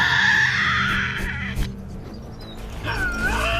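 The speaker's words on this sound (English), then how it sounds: "A female Tasmanian devil hones in on the unmistakable sound of her own kind." A Tasmanian devil in a wild forest gives harsh, wavering screams and growls, loud and close, with a gap before another rising screech near the end.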